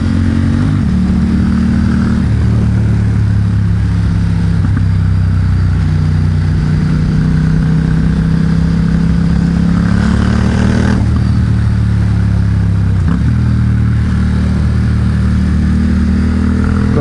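A 2021 Ducati XDiavel Dark fitted with a Vandemon exhaust revs loudly and close, its deep engine note rising and falling through several throttle blips over a steady rumble.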